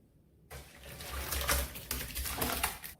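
Tap water gushing steadily into a vessel while soaked rice flakes are washed, a close, continuous rushing splash that starts abruptly and stops near the end.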